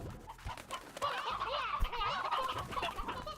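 Chickens squawk and cluck in the video game Slime Rancher, a busy run of overlapping bird calls at steady loudness with a few sharper accents, no talk over it.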